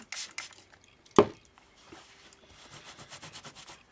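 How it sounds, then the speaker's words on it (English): A spray bottle mists water onto layered fabric being roughened for texture, with a few short soft hissing spritzes, one louder burst, then quiet rubbing scratches, close and fairly faint. "that actually is easier if you spray it with a bit of water"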